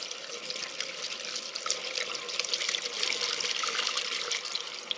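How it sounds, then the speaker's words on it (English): Petrol pours through a homemade funnel into a Triumph 1050 Tiger Sport motorcycle in a steady, trickling stream for several seconds, close and fairly quiet, with no voices. "Now we can go ahead and pour a bit of petrol in."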